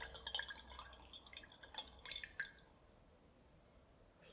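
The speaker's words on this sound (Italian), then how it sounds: "Immergo nell'acqua" A brush is dipped into water while working a bar of soap, producing faint, close, scattered drips and soft splashy taps over a few seconds in a hushed setting.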